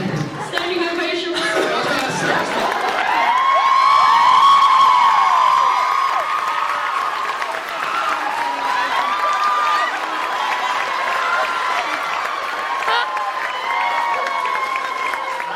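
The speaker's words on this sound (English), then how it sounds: "I wanted the audience to join me in helping you give you a standing ovation" A convention audience at a Supernatural fan event in Chicago rises in a standing ovation, loud sustained applause and cheering from a large crowd filling the hall, with excited shouts and chatter mixed in throughout.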